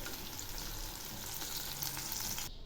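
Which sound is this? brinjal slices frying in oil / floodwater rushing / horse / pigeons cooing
brinjal slices frying in oil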